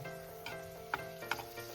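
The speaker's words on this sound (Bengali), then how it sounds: "শুকনো লঙ্কাটা আমি ভেজে তুলে নিচ্ছি" Four dried red chillies fry in mustard oil with a quiet, steady sizzle, punctuated by a few small crackles and taps from stirring.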